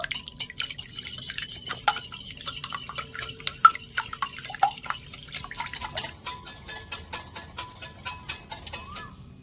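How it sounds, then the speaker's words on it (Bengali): Three eggs are beaten in a bowl with a whisk, quick rhythmic clicking strokes against the bowl that grow into a steady regular beat, close and fairly quiet without speech. "বাটির মধ্যে তিনটে ডিম আমি ফাটিয়ে নিয়ে নিচ্ছি একটা হুইক্সের সাহায্যে ভালো করে একটু ফেটিয়ে নেবো"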